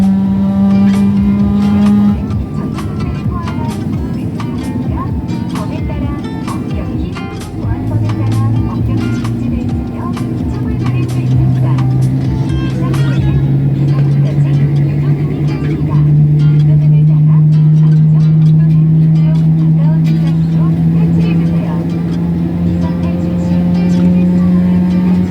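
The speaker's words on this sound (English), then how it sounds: "the GE90 engines, some of the largest and most powerful turbofan engines in the world, begin to spool up" Boeing 777 GE90 turbofan engines spooling up, a steady deep rumble with a rising whine that climbs gradually and holds loud from start to finish, heard from inside the cabin during taxi out at Ngurah Rai International Airport in Bali.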